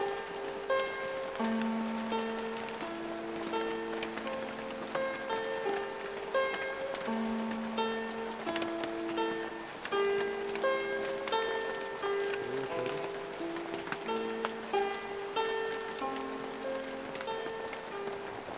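Heavy, steady downpour drums on foliage and surfaces in a dense, humid jungle, a continuous loud wash of rain with scattered drops and no voices.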